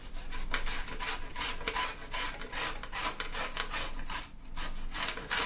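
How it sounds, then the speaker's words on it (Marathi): Beetroot is grated on a medium grater, a close, rhythmic series of rasping strokes repeating at a steady pace. "आता इथं मी मीडियम जी किसणी असते त्याच्यावर किसून घेणार आहे सगळे बीट"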